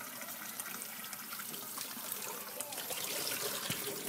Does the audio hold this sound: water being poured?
yes